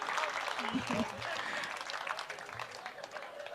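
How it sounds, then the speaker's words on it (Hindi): A crowd claps steadily and loudly in a hall, a dense wash of applause with voices mixed in. "मेरे मित्र के लिए, ताली बजाइए।"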